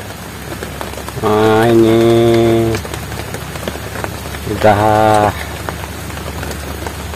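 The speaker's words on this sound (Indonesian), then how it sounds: "sampai, hujan pun sudah turun nih" Heavy rain falls steadily on a garden plot, a broadband wash of drops heard throughout, with someone speaking briefly over it in two loud bursts.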